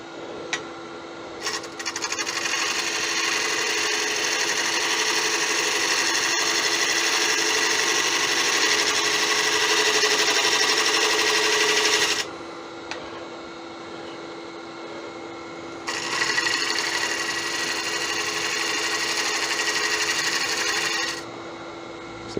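A wood lathe turns a large 17.5-inch tiger wood and resin bowl, making a steady, loud hissing scrape as the tool cuts. It runs continuously, breaks off for a few seconds, then resumes.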